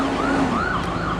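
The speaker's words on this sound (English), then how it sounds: "I don't know who needs the ambulance" An ambulance siren wails with a loud, continuous rising and falling tone over steady road traffic noise, fairly close and with no one speaking.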